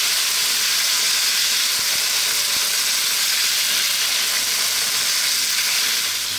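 Potatoes dropped into hot oil in a pan for a potato and eggplant curry give a loud, steady, dense sizzle and hiss throughout, close up, with a couple of faint knocks.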